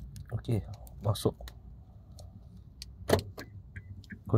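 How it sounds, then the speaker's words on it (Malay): A Perodua Myvi's central locking clicks shut and then unlocks, sharp close mechanical actuator clunks and beeps with quiet ambience between them. "Bunyi tutup. Bunyi buka."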